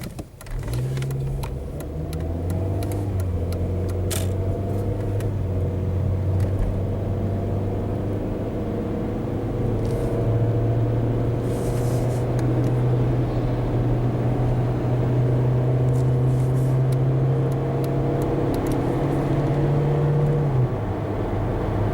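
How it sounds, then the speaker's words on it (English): A Volkswagen Golf with an 01M automatic transmission drives on a test drive, a steady interior engine and road drone with a sustained low hum that shifts pitch gradually, continuous and without talk. "I'm going in here to test drive this Golf, and we're going to drive it"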